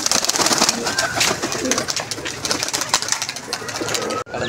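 Red Lal Dum pigeons coo steadily in a loft, their soft throaty calls overlapping close by, with scattered wing flutters and rustling.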